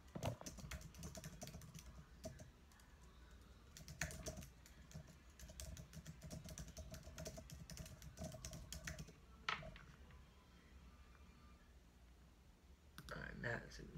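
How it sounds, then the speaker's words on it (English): Rapid clicking keystrokes on a computer keyboard, close but quiet, run in uneven bursts with short pauses over a low background hum. "Let me type it out"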